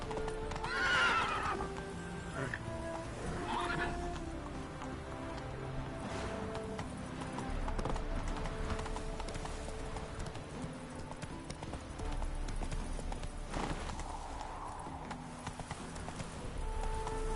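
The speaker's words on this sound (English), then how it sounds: "Run, Roach" A horse in the video game The Witcher 3 gallops with rapid rhythmic hoof clip-clops throughout, neighing loudly twice early on, against a faint game soundscape.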